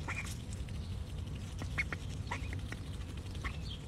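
Rescued domestic ducks quack in short, scattered calls while they eat, several birds close by over a low steady background with no talk.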